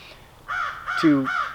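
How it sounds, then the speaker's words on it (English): Crows caw outdoors in a quick run of three or four harsh calls at moderate distance. The calls overlap slightly over a quiet background. "I love the sound of the crows"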